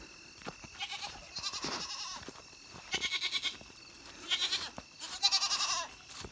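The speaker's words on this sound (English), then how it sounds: "Finn is the goat that is up there." Goats bleat repeatedly at a farm at feeding time, several loud, quavering calls in close bursts with short pauses between them.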